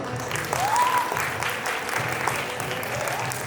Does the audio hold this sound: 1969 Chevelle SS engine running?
no